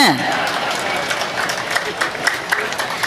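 Thin, sparse applause from an audience at a Tamil literary talk, a few scattered claps tapping under a speaker's voice as he addresses the room.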